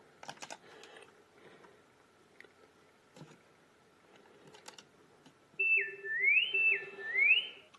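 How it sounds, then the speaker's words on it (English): A little whistle effect from the Arcade1Up Star Wars arcade cabinet plays as a few quick rising and falling sweeps. Scattered button clicks and taps come first, and the whistle rings out loud and clear at the end. "Okay, I like the little whistle."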